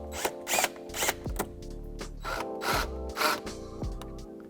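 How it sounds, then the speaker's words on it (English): A 9/32 socket on a powered driver loosens hose clamps on a Ford F150 5.0L cold air intake near the throttle body, giving several short, close whirring bursts separated by brief gaps. "we're going to undo the hose clamps both by the throttle body and up here. And we're just going to use a 9/32 socket on that"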